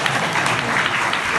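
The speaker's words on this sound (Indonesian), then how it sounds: "Tepuk tangan dulu" Audience applause at a regency government Ramadan safari event in Takalar, a steady dense wash of clapping hands filling the short stretch without pause.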